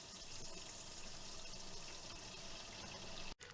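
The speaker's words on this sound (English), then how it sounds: "got hot water running through it." Hot water running steadily from a tap down a kitchen sink drain, a continuous close splashing rush that holds evenly throughout with a brief break near the end.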